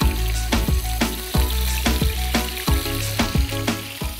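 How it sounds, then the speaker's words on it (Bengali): Chicken malai kabab sticks frying in hot oil over medium heat crackle loudly and continuously, with repeated clatters as the sticks are set down and turned, close and busy throughout. "মিডিয়াম হিটে আমি একটু ভেজে নিচ্ছি"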